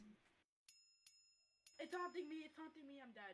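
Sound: bell being clicked in modded Minecraft, from a video game

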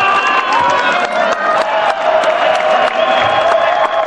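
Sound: spectators screaming and clapping at tug-of-war match

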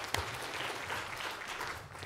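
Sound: audience applause

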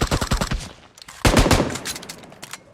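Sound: gunfire shooting zombies in a video game

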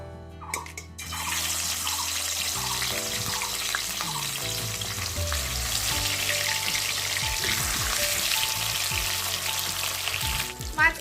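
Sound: rohu fish frying in mustard oil

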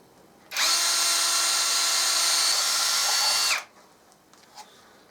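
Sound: power drill drilling

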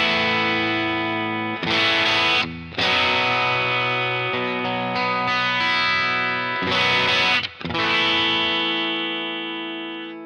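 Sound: electric guitar through EarthQuaker Devices Plumes overdrive, low gain

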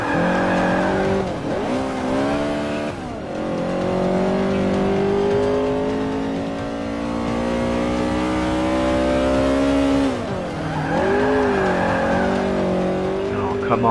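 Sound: VW Beetle 2.0L RWD with Civic engine racing, video game Forza 5

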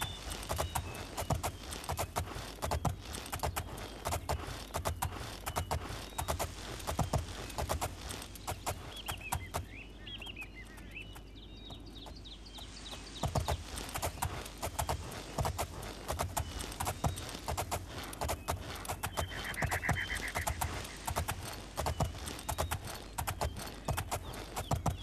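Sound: horse hooves clip-clop in video game

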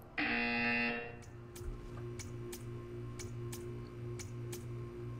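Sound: buzzer from the video game Portal 2

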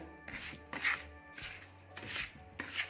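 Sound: mixing rava ladoo mixture with sugar syrup

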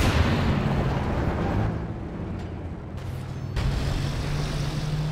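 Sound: mine explosion in video game Company of Heroes 2

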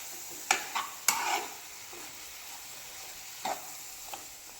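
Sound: stirring jaggery as it melts in a pan on the stove

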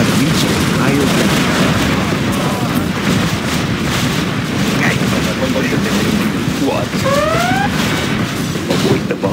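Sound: bombs exploding in video game C&C Generals Zero Hour

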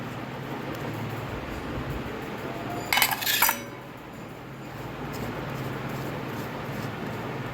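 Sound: knife scraping seeds out of pointed gourd (potol)

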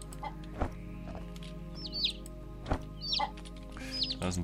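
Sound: chickens clucking in Green Project video game

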